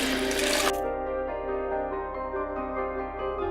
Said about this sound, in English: Lightly rinse the fish.